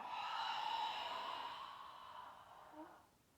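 A single long, soft exhale during a yoga forward fold, close to the microphone, lasting about three seconds and fading away near the end, with no other sound over it.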